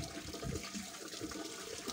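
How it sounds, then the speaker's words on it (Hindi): Water runs and splashes steadily at low level as it is taken in the hand for rinsing the mouth during ablution before prayer, a continuous soft wash with no speech. "ये पानी लेकर 3 बार हमने मुंह में डालना है।"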